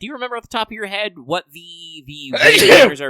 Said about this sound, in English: Gesundheit.